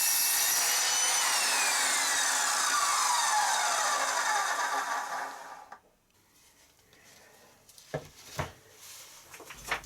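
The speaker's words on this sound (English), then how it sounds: "Be careful when sawing not to lift the blade at the end of the cut" Rapid, steady strokes of a hand saw rasp through wood for several seconds, then stop, leaving a few faint knocks and scrapes.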